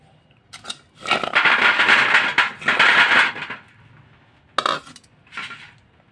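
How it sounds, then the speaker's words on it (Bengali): Jackfruit seed mash being ground by hand for bhorta, two sustained stretches of gritty scraping and crushing, then a pause and short scraping strokes, close and clear with no talking. "বত্তাটা তো বেটে নিলাম"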